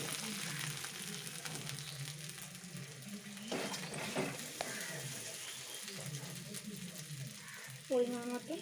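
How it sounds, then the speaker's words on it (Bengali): Chicken frying in oil in a pan gives off a steady, quiet sizzle, with occasional stirring scrapes and clanks rising above it. "খুব ভালোভাবে ভাজা হয়ে গেছে, কাঁচা স্মেলটাও চলে গেছে, এখান থেকে তেল ছাড়তে শুরু করে দিয়েছে।"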